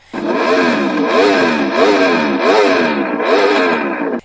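A loud short slip-on exhaust on an Aprilia Tuono V4 1100 Factory motorcycle revs repeatedly, rising and falling in about five throaty surges, close up with no talking.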